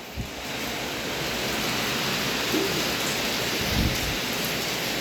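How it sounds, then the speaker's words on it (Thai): Heavy rain pours steadily before dawn, a dense, even hiss with a couple of faint low rumbles like distant thunder, and no voices. "โอ้ฝนตกดีมากเลยเอฟซีตกทั้งคืน"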